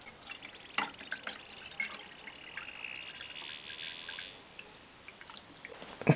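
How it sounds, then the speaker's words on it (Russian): Antifreeze pours into the cooling system of a Peugeot 408, a steady thin liquid trickle with occasional drips and small clunks, close and moderately quiet, with no speech. "Начинаем заливать нормальный антифриз."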